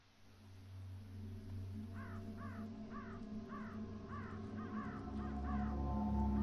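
Crows caw about eight times in an even, evenly spaced series, moderately distant, over a low wartime ambient rumble in the Company of Heroes video game.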